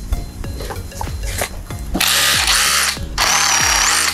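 A DCH133P2 2 kg rotary hammer drill bores into concrete. A loud, steady hammering drone comes in two long bursts, preceded by quieter knocks and handling clicks.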